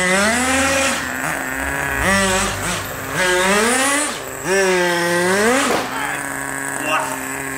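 A Porsche GT3 RSR engine revs up and down in repeated rising and falling sweeps as the car maneuvers, loud and close, with a voice talking over it.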